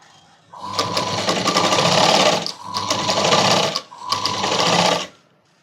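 A sewing machine stitches a kids' night dress in three loud, close bursts of rapid whirring, each lasting a second or two, with short pauses between them.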